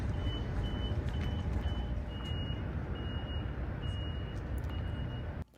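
A vehicle's reversing alarm beeps in a steady, evenly spaced series over a loud, continuous engine rumble, stopping abruptly at the end.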